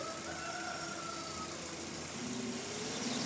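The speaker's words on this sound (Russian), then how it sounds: "Давай газку немножечко." A Kia Rio's engine runs under light throttle, a steady mid-pitched hum that rises slightly in pitch toward the end, heard from close by with no talk.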